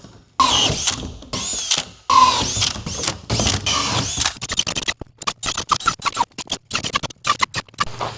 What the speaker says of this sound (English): I'm using a 3 3/4 inch hole saw.